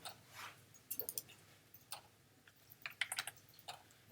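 Arrow keys on a computer keyboard tapped in scattered quick clicks and short bursts, quiet and close, with no voices.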